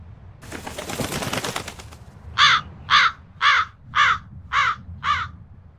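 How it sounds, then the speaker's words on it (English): Six crisp crow caws from the video game Tales of Berseria, evenly spaced and close, ring out after a burst of rushing, fluttering noise. "That crow just flew off with the coin!"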